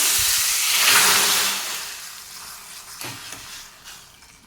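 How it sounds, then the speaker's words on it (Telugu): Hot tempering hits a pot of rasam with a loud, close burst of steamy hissing that fades over a second or so, followed by a smaller second flare of sizzle. "ఇప్పుడు ఈ తాలింపుని రసంలో యాడ్ చేసేద్దాము"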